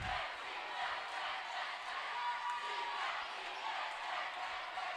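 A crowd fills the Cougar Den gym during a high school girls' volleyball district semifinal between Grayson County and Edmonson County, making a steady, distant roar of cheering and chatter that holds at an even level throughout.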